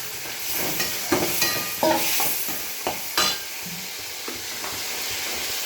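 Kandanakaya vegetables fry in a pan with a steady sizzle and hiss, punctuated by clinks and scrapes as they are stirred. The sound is close and continuous.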